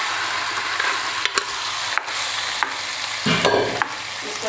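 Chicken browning with garlic in a hot pan, a dense continuous sizzle with occasional sharp clicks of a utensil, loud and close, no talking.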